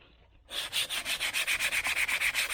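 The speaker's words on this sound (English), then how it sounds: "So I take a piece of 80 grit and just lightly sand it" 80 grit sandpaper is rubbed by hand over a 1981 Z28's interior trim to lift its top layer, starting after a brief quiet moment with about fifteen steady, even back-and-forth strokes, close and loud.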